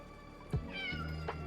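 A cat gives a short, faint meow, followed by a second soft, drawn-out call a moment later against a quiet indoor background.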